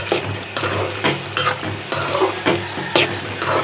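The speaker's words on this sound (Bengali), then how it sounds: "আলুটা দিয়ে একটু কষাই" Small potato pieces sautéing in a pan for a pabda fish curry, a loud close sizzle with rhythmic scraping strokes of a spatula roughly every half second.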